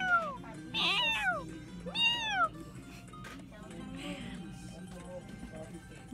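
A person's voice imitates a cat's meow several times, rising and falling calls close by, mixed with what may be a real cat meowing, over a low background hum.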